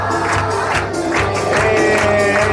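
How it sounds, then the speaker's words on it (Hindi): A worship congregation claps and cheers amid ongoing music, rhythmic hand claps pulsing over a sustained tonal backing with crowd voices mixed in. "तालियां बजाएंगे।"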